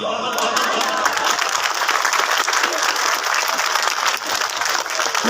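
Sustained applause from a large audience at a birthday celebration event, dense steady clapping with some crowd noise, continuing loudly for several seconds without pause.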